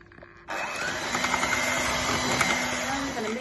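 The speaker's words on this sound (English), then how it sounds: "I'm going to use a handheld mixer" A handheld electric mixer whirs steadily through thick cake batter, starting abruptly and holding a loud, even motor drone with slight fluctuations throughout.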